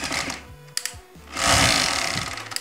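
A Bosch GSR 7-14 E 400W corded drill/screwdriver spinning, with short whirring bursts that rise and fall in pitch, then a longer loud run, close up and with no talk.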